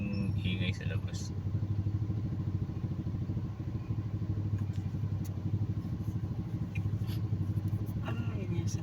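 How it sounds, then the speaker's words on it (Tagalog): A motorcycle engine drones steadily just outside, with a low, even mid-pitched hum and faint clatter throughout, under occasional talk. "Ano yun sa labas? Yung motor."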